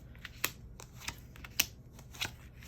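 Playing cards handled and shuffled at close range, a series of crisp papery snaps and flicks spaced irregularly over a soft background, with no voices.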